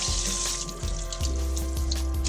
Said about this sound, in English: Drain it well, because I'm going to add some oil to it.